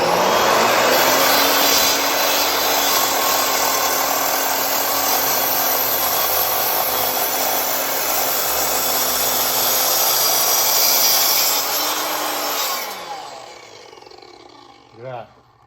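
Evolution 10-inch sliding bevel miter saw making a 45-degree cut through a 3 by 6-inch piece of white oak, a loud, sustained whining roar lasting about twelve seconds before the blade spins down, with a brief sound after.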